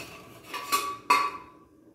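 A metal lid goes back onto a pot of simmering dal: two sharp, ringing clanks close together, each with a short metallic decay, in an otherwise quiet kitchen.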